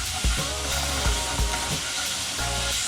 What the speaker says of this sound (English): I think it's already hot, so we're gonna add some garlic